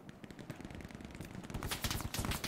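Rapid automatic gunfire in the Hell Let Loose war game, bursts of shots crackling steadily and growing denser and louder toward the end, with no talk over it.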